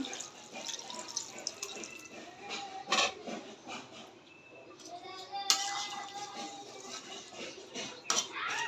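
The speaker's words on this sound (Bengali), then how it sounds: "এখন একটু জল দিয়ে দিচ্ছি" Water splashes and trickles into a cooking pan with uneven drips and pours, while faint voices, including a child's, sound in the background.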